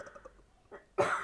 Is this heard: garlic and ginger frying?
no